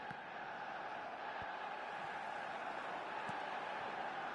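Crowd roar from a football video game, a steady, broad wash of cheering spectators held at an even level throughout with no distinct voices standing out.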